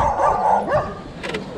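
A dog barks and yips up close in an urban fishing spot in Broward County, Florida, short sharp calls within a brief moment.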